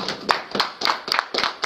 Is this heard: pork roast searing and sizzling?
no